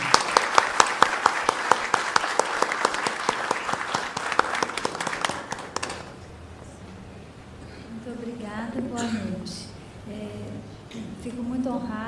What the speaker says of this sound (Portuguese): Então eu peço a todos aplausos de boas-vindas a Simone von Rondon.